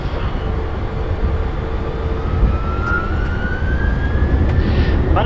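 Eurowings Airbus A330 engines spool up on takeoff, heard as a loud, continuous broadband roar from inside the cockpit with a rising whine building steadily throughout.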